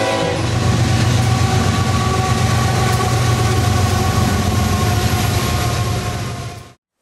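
A BNSF train passes close by on the coastal rail route north to Canada in northwest Washington, a loud steady rumble of cars and wheels with a tonal horn or engine hum, holding level for about six seconds before cutting off sharply.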